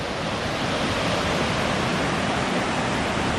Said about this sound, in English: that is a raging river.